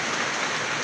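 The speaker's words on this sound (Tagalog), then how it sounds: "nabutan po kami magpunta dito ng ulan" Steady rain pouring down on the way to a spring in the countryside, a dense, even hiss with no talk.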